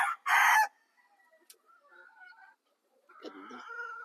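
A Black McRae straightcomb rooster crows loudly and close by in one strong burst near the start. Quieter calls and clucks follow, and a second rougher call rises toward the end.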